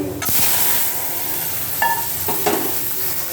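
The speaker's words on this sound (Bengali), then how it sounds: "আমি এখন একটু ডালটা ছুঁকে দিচ্ছি আর একটু চিংড়িটা ভেজে দিচ্ছি" Shrimp frying and dal being tempered in a pan for a home lunch: a steady close sizzle with stirring scrapes and brief clinks over a continuous frying hiss.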